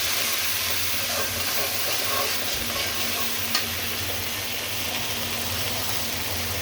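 Shrimp stir-fried in a browned spice paste, a continuous loud sizzling hiss with stirring scrapes and one brief clack partway through, close to the pan.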